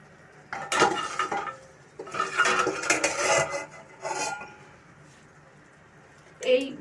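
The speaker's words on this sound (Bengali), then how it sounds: "এবার আমি এই কিমাটা এর মধ্যে মিশিয়ে দেব" Half-cooked minced meat is mixed into rice in a pot for keema rice, with bursts of a metal spoon scraping and clattering against the pot, pauses between strokes, and a voice speaking faintly.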